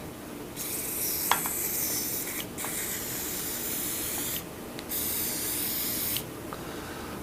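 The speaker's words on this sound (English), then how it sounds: "We get a spray inside that gas piston ring here." Bursts of aerosol cleaner spray hiss loudly at close range into the gas piston of a Browning Maxus 2 shotgun, three or four sustained blasts separated by short pauses.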